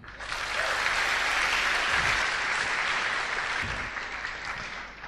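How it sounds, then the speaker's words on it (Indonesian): An audience at a business seminar bursts into applause that swells quickly, holds dense and steady for a few seconds, then tapers off. "Beri aplaus buat Silver Lion Ibu Siska."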